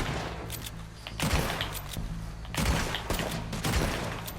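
Rapid gunfire in Red Dead Redemption 2, a run of loud close shots and bursts with booming impacts, arriving in clusters over a steady game background.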